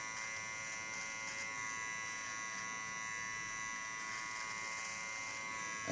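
A cordless rechargeable hair clipper trims hair during a haircut, giving a steady, quiet electric buzz that holds unchanged throughout with no pauses.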